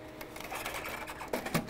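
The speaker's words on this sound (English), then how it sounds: "Just push it into the printer. It will grab the media and take it and load it," An Epson ColorWorks C6000 label printer draws in and loads label media, a short run of close mechanical whirring and feed clicks with a couple of sharper clunks near the end.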